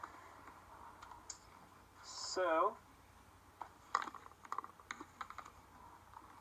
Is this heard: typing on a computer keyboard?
yes